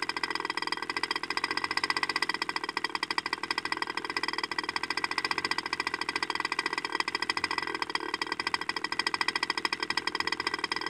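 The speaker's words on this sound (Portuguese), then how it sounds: "Tô baixando a lenta, tá?" MVVS 6.5 model aircraft engine running at a lowered idle, a continuous buzzing drone with a rapid even pulse, moderately loud and close, with no voices over it.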